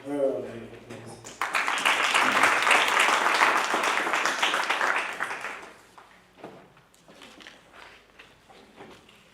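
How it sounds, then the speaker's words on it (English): A round of applause from the audience at a district road safety debate competition swells suddenly, holds steady for a few seconds, then fades away, leaving scattered claps and room noise. "May you please give her a round of applause."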